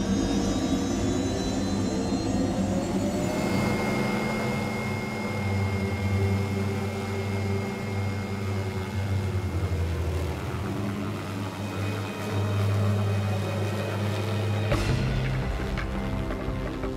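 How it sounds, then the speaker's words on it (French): A jet aircraft flies over the area during an elephant rescue, its loud steady roar with a sweeping whine holding for the whole stretch, then shifting abruptly near the end. "Un avion survole la zone pour faciliter le travail de localisation."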